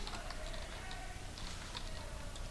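Fingers type text on a computer keyboard while entering WordArt lettering in a document, producing a steady run of light, quick key clicks against a low room hum, with no talking.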